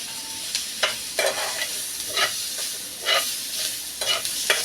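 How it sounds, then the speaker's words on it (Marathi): Ginger and garlic sauté in a pan with a steady sizzle and hiss, broken by a series of regular scraping stirs, close and fairly loud, with no talking. "आलं लसूण तेही इथे ॲड करतो आहे तरी आपल्याला का सगळं ब्राऊन होईपर्यंत आपण आता हेही आपण परतून घेणार आहोत"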